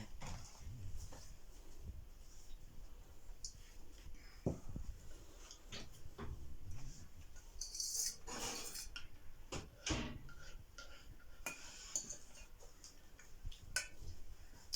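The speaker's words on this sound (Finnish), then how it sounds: "Me viedään tämä nyt vaan uuniin" A Siikainen prötti bake goes into a 170-degree oven in a home kitchen, with scattered clinks of dishes, pans and cutlery, ticks and a door or drawer handled, all faint and close.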